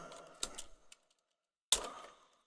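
A few sharp clicks on a computer keyboard while a short code is typed, in a brief cluster then a gap and one loud final key tap, close and dry.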